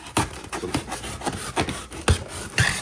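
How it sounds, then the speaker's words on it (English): D2 steel Odenwolf survival knife slicing through a cardboard box, a series of rough rasping scrapes in uneven strokes, close and fairly loud, with no talking. "So as you can see, cutting the box is good."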